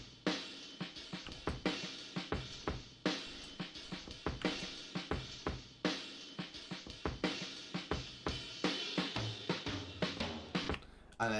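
Dry, unprocessed two-bar drum loop chopped to repeat, with punchy kicks and crisp snares and hats in a steady groove, moderately quiet, with no voices.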